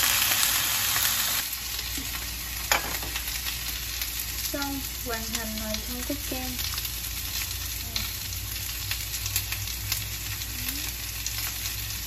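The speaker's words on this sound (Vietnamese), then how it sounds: "Chiên cá này khỏi để dầu" Fish frying in a pan with no oil gives a steady, close sizzle that runs the whole time, with a few faint clinks and tonal chirps over it.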